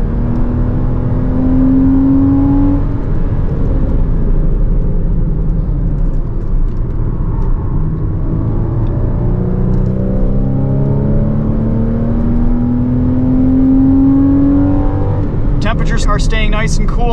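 A 2014 Porsche Cayman base model with PDK gearbox drones loudly at speed on a race track, its engine note rising and falling through gear changes while someone talks over it throughout.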